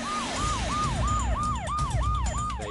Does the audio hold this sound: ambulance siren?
yes